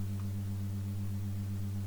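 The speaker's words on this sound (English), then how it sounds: "So let's just look at a sine wave for instance." A sustained low sine-wave tone from a synth key pressed in Ableton Live drones faintly and evenly through the whole moment, without a break.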